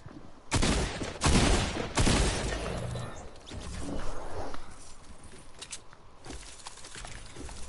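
Gunfire in the Fortnite video game, with several loud sharp shots early on, then quieter scattered shots and background game noise.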